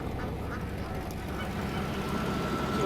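Ducks on a farm quack in a steady, muffled chorus at moderate distance under a constant low rumble.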